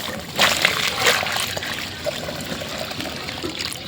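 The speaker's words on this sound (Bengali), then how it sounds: "এবার এই খাবারটাই পানি দেব।" Water splashes and trickles onto cattle feed in a container, with a couple of louder splashes early on that ease into a steady close pour.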